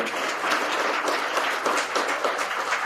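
A crowd at a political speech in Coimbatore applauds, a dense, steady wash of many hands clapping for the whole stretch with no voices on top.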